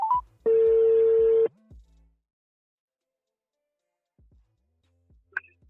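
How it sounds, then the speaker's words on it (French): A telephone number dialed on a keypad, several short beeps followed by a long steady tone, then a few faint clicks and near silence. "On appelle."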